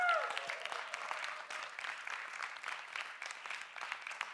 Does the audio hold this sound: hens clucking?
no